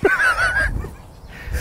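Ducks or geese honk on a golf course, a few short, loud, nasal honks in the first moment, then fading into quiet open-air background.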